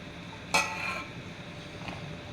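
Boiled tapioca being stirred in a pot: one sharp metal clink of a utensil against the pot, then a fainter scrape and a soft second knock over quiet background, no talk.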